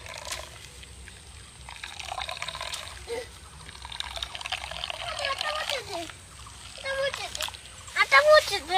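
Raw potato liquid being strained through a net, heard as a soft trickle and splash under steady talking from a woman and a child, growing louder near the end.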